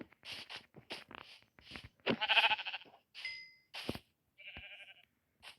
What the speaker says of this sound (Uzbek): Qo'ylar.